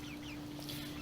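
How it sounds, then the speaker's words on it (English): Americana Easter Egger chickens cluck faintly on a farm, over a steady low hum, with no voices. "we no longer have Rhode Island Reds. All we have now are the Americana Easter Eggers."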